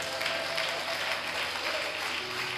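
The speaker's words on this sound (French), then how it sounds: "est-ce qu'on peut acclamer cette maman?" A church congregation claps together for a mother, a steady, fairly dense round of applause from a crowd in a reverberant hall, lasting the whole moment without talk over it.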